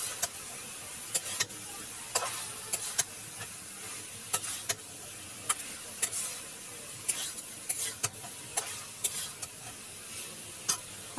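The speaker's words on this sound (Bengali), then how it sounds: "এরপর একটু নাড়াচাড়া করে নেব" Turmeric being stirred into lentils and bottle gourd in a pan, a faint steady sizzle under repeated sharp scraping clicks of a spoon against the pan, spaced irregularly throughout.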